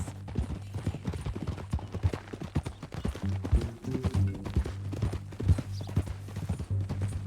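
Horse hooves clip-clopping at a steady walk in Red Dead Redemption 2, continuous close rhythmic hoofbeats over a low droning ambience for the whole stretch.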